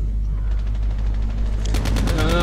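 Rapid automatic gunfire bursts out in Call of Duty Mobile on the terminal map, a close, loud stream of evenly spaced shots that grows heavier near the end.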